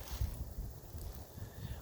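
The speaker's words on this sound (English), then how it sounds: "It's so wet out here, and it's really cold, and it's really windy." Gusty wind buffets the microphone outdoors, a low rumbling roar with a hissy wash on top, continuous throughout.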